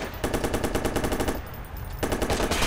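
Rapid automatic gunfire in the Watch Dogs video game, two loud, close bursts of fast rattling shots separated by a brief pause.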